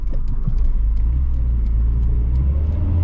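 A Nissan Micra 1.4 hums along on the road, its small engine and tyre rumble forming a steady, close, continuous drone with no talking over it.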